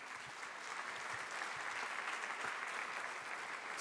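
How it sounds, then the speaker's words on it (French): An audience applauding steadily at a live talk event, a dense continuous wash of clapping heard from within the room with no voices over it. "On peut encore les applaudir pour leur action."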